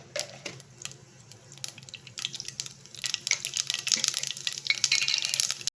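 Mustard seeds spluttering in hot sunflower oil in a pan, starting as a faint sizzle and building into dense, rapid crackling and popping over the last few seconds, with no talking.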